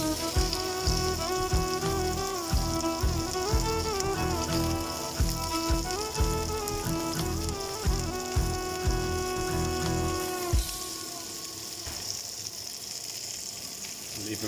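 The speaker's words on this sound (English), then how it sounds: "We'll start going in with the peppers. Same again. I'll be overdoing it with the stirring or the tossing for a couple of seconds." Peppers stir-fried and tossed for a chicken stir-fry, a steady hiss of sizzling beneath a loud musical backing with a regular beat, which drops away toward the end leaving the frying noise more exposed.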